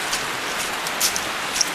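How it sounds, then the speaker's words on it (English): Steady rain falling outdoors after two days of rainfall, a dense even hiss with a few sharper drips standing out, continuous and fairly close. "Well, yeah, it's raining."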